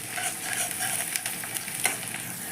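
Garlic paste sizzles in a pan with fried onions, a bright continuous crackle with occasional stirring scrapes, close and steady with no talking.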